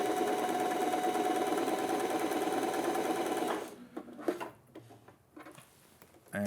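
An Alfa Style sewing machine running a zigzag stitch hums and ticks steadily and close for several seconds, then stops, leaving scattered small handling clicks and knocks.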